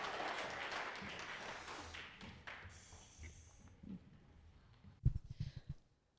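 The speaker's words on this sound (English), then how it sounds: "Let's give them a clap while they come up." A church congregation claps as Sunday school kids come up front, a moderate burst of applause that fades away, followed by a few louder close claps or thumps near the end.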